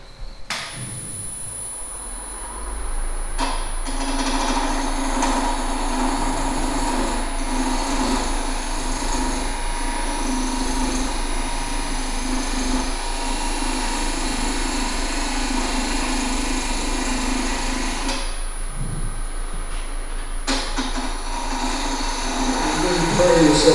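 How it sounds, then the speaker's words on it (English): A parting tool cuts a groove into wood spinning on a lathe, giving a loud, steady whirring scrape of motor and cutting that runs almost without a break, pausing briefly twice. "So I'll start with a parting tool and just cut maybe a 1/2 inch deep groove where I want the base to be."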